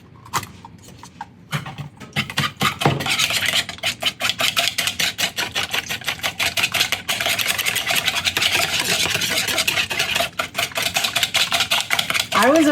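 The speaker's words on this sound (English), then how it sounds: "when you whisk eggs, you have to go in a figure 8 motion" Eggs whisked briskly in a bowl for blue corn bread, a fast continuous ticking of the whisk against the bowl that keeps a steady rhythm for several seconds, close and fairly loud after a few slower opening taps.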